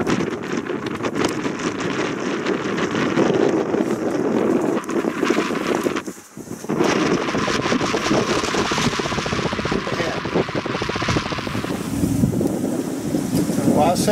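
A sailboat cruising in the Pacific Northwest under a northwesterly breeze of 7 to 15 knots, with constant gusty wind buffeting the microphone over water rush, one brief lull midway.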